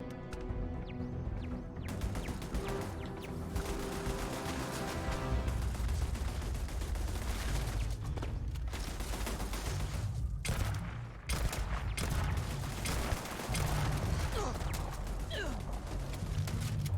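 Sustained, dense turret gunfire from a gang firefight in Starfield, rapid bursts and heavy shots rolling on loudly for the whole stretch with a brief dip midway.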